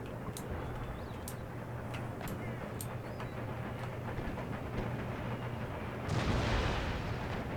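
Cannon volleys in the Napoleonic-era strategy game Empire: Total War, with scattered sharp reports over a steady battlefield rumble, then a heavier, louder surge of fire near the end.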